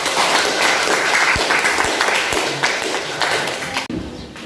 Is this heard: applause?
yes